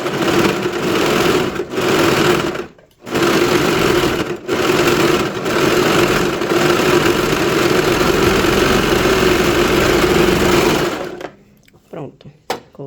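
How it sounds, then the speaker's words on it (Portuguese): A sewing machine runs steadily, stitching the hem of a small pet dress, its motor whirring with a few brief pauses before stopping near the end, while a voice talks faintly underneath. "E vou vir costurando aqui"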